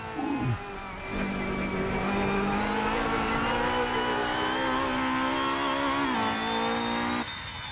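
A Honda Accord MK5 BTTC race car engine drones loudly and steadily up close as it runs on track, its pitch climbing gradually before dropping back near the end, with no voices.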